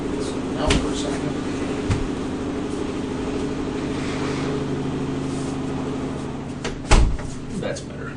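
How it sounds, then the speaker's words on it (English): A laundry room door swings shut with a single close thump, heard nearby over the steady hum of a running clothes dryer, while people talk in the room. "I'm going to see if I can close this laundry room door to get that noise out of there."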